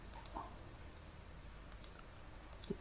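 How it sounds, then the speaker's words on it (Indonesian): Sparse, faint keystrokes on a computer keyboard while typing in a Word document, a few isolated clicks in small clusters against a quiet room. "Anggap saja kita mengetik."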